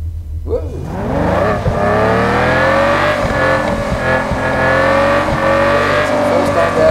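A racing car engine in a simulator game revs hard as the race begins, climbing steadily in pitch with gear-change dips and occasional tire squeal, loud and continuous with no talk over it.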